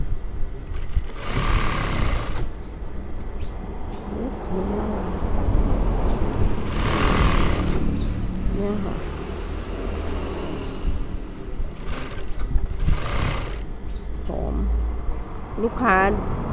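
A sewing machine stitches the hem of an evening gown in a dressmaking workshop, running in three short whirring bursts, with someone talking between and over them.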